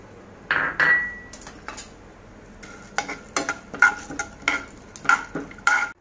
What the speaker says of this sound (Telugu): ఇవి ఇప్పుడు మనం నెయ్యిలో వేయించుకోవాలండి